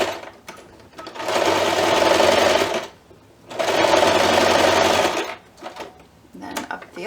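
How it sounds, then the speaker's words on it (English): A sewing machine stitches a pumpkin pie piece for a holiday bunting, running in two steady whirring bursts of about two seconds each with short pauses between, close and clear. "So we're going to sew down one side and up the other side so that it is secure."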